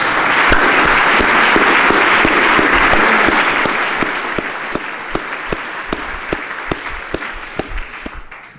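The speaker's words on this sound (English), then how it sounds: "we treat a guest of honor with a warm applause" Warm applause for a guest of honor opening a philosophy of information symposium, a full, loud roar of many hands at first, gradually thinning to scattered individual claps that pop out clearly before fading away.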